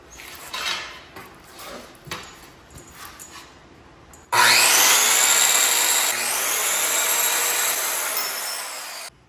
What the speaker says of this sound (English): With aluminum and stuff like that, I like to use my skill saw. I got a little aluminum blade.